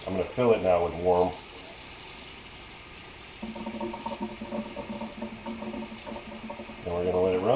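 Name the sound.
warm water filling Aerogarden bowl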